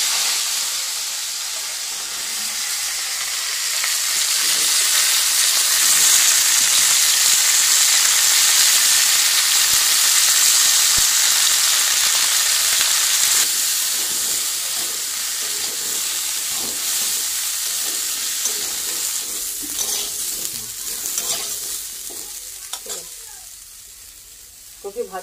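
Cauliflower pieces fry in a pan for a rohu fish curry, giving a loud, continuous sizzle that swells and then eases, with scraping stirs growing more frequent toward the end.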